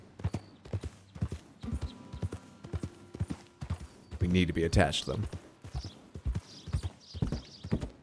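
Horse hooves clip-clop in Red Dead Redemption 2, a steady walking rhythm of sharp close knocks, with a brief whinny midway and someone talking over the hoofbeats.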